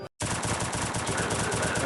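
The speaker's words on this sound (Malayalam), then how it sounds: "അവിടുന്ന് ഒരുത്തൻ വെടിവെക്കുന്നുണ്ടല്ലോ." Rapid automatic gunfire in the battle-royale video game Free Fire, a fast, evenly spaced burst of shots after a brief silence, loud and close.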